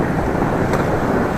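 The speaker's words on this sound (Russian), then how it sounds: "Ветер еще в лоб." Steady broadband wind roar against a microphone, a headwind met while cycling slowly along a road in northern Vietnam, continuous and loud with no talk.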